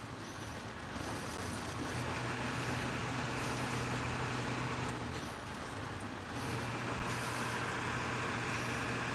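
A truck rolls past in dense road traffic, its heavy engine rumble and tire roar forming a steady, loud wash of noise that dips briefly and swells again.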